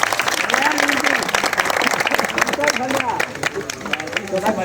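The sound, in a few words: audience applause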